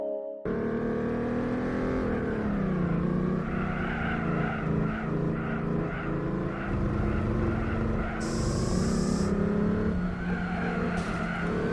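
Engine note of a racing car in Gran Turismo 4 surging under nitrous, a loud, steady, tonal roar that climbs and holds with wavering pitch, plus a brief high whine near the end.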